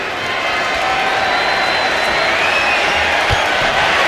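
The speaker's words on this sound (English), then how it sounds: "And a live crowd." Live arena crowd in the WWE 2K25 wrestling game, a dense, steady wash of cheering and crowd roar at constant loudness, with no clear talk over it.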